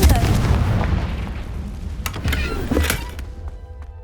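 A Confringo blasting spell explodes in the Hogwarts Legacy game, a loud booming burst that opens the clip and rumbles on with a couple of sharper cracks later, then fades out.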